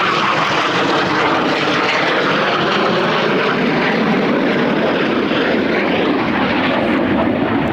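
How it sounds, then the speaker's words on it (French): A military fighter jet passing overhead in the countryside near a field of cows, a loud, steady roar of broadband engine noise that fills the whole stretch and fades slightly near the end, with no talk. "Oh, il y a avion de chasse."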